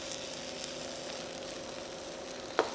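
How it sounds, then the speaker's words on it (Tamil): Chicken sautéing in a pan for Chettinad cashew-nut chicken gives a faint, steady sizzle throughout, with one brief scrape or stir near the end. "இதையும் சேர்த்து நல்லா அந்த பச்சை வாசனை போகிற அளவுக்கு நல்லா வதக்கிடணும்."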